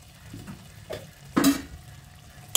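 Spoon stirring bottle gourd and prawn curry in a pan, a few soft scrapes and one louder clatter against the metal over a faint sizzle, no speech.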